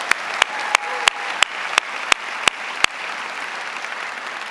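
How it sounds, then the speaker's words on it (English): A graduation ceremony crowd applauds in a broad, steady wash of clapping, with a few sharp louder claps punctuating it at regular intervals from nearby. "Let's have another round of applause."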